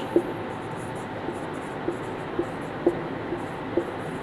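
Pen scratching on paper while a maths solution is written out, with soft, irregular strokes and taps under a steady background hum.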